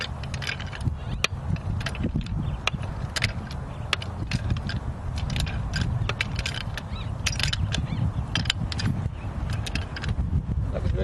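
A ball joint press is turned to force out a ball joint, giving loud close mechanical ratcheting, clicking and grinding with sharp metallic snaps throughout.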